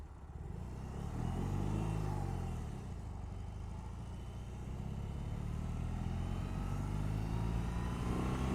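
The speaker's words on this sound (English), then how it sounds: "the new 1800cc boxer engine producing 91 brake horsepower" A BMW R18 First Edition's 1800cc boxer engine runs with a deep, throbbing rumble that swells and eases as it revs, close by and fairly loud.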